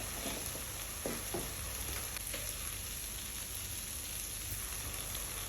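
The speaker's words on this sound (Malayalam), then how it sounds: "ഇത്രയും പൊടികൾ ചേർത്തിട്ട് നന്നായിട്ട് ഒരു 5 മിനിറ്റ് സോട്ട് ചെയ്തെടുക്കുക" Turmeric, chilli and coriander powders sauté in hot oil for soya chunks pulao, a dense steady sizzle up close with a few light stirring taps early on.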